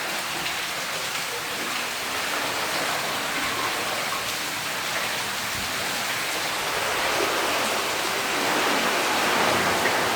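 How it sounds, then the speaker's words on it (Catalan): Heavy summer rain pours into a sea cave at Tossa de Mar during a kayak trip, a dense, constant hiss of falling water that swells slightly louder toward the end, with no talking. "Estan caient catarates d'aigua"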